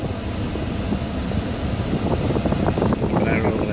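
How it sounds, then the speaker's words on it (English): The air-conditioner fan in a 2018 Ford F-150 runs at max speed, a steady broadband whoosh of blowing air that fills the cab, with a person speaking faintly over it. "if you have the air conditioner on and you go down one more click, it goes to max"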